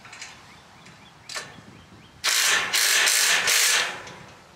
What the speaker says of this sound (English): And don't forget to tighten up this nut.